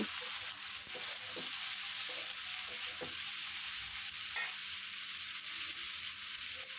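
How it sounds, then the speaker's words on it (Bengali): Flowers frying in oil tempered with cumin and radhuni seeds for a Bengali shukto, a faint continuous sizzle with occasional stirring taps and scrapes, steady and quiet with no voices. "তেলে জিরা আর রাঁধুনি ফোড়ন দিলাম আর এই যে ফুলফুলগুলো দিয়ে ভালো করে ভেজে নেব"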